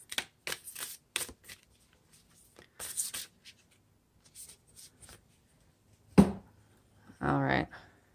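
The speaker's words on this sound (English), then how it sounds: "I'd like to pull just one card for you guys. One more Oracle card from the Starseed Oracle." Starseed Oracle cards are shuffled with soft, papery riffles and flicks, then a card is drawn, ending in a short burst of brushing and slapping. The sounds are close and quiet with gaps between them, and a brief voice sound is heard near the end.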